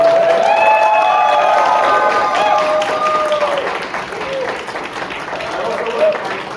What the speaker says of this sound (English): So a big round of applause for both of them.